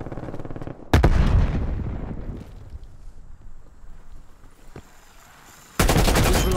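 A grenade blast and automatic gunfire in the Call of Duty multiplayer map Satellite, a team deathmatch game: a loud burst that tails off into a rumbling decay, then a sharp renewed volley of shots near the end.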